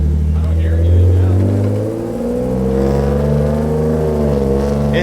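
A Nissan R32 GTR pulls away, its engine revving up loudly close by then easing into a steadier drone as it moves off, with a voice speaking over it.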